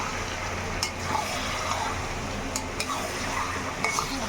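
Marinated mutton fries in a pan while being stirred, a steady close sizzle with scattered clinks and scrapes of the utensil against the pan.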